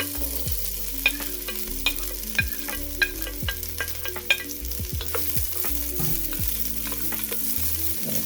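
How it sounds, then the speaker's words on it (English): Chopped peppers and onions sautéing in avocado oil inside a Dutch oven, with a steady close sizzle and occasional spoon clinks and scrapes as the vegetables are stirred. "first thing I want to do is saute my chopped vegetables, the 3 peppers and the onions"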